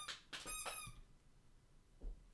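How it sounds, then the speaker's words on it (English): A dog lets out a few high, thin squeaks in the background during the first second, followed by a quiet room with a soft low thump near the end. "Dog squeaking in background."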